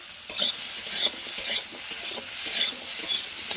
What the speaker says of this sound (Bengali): দেখো আলু, ঝিঙে, ডাঁটা সবগুলোই একসঙ্গে ভেজে ঢেলে নেবো